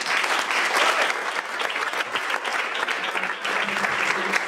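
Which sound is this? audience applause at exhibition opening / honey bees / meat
audience applause at exhibition opening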